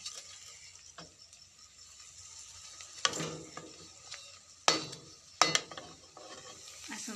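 Cabbage, potato, onion and besan pakoras frying in oil, a faint steady sizzle with scraping stirs and a few sharp clattering knocks of utensil against pan, no voices.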